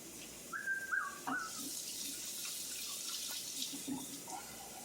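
Hands are rinsed under a running kitchen tap, giving a soft, steady water rush with a few faint splashes and brief high tonal squeaks nearby.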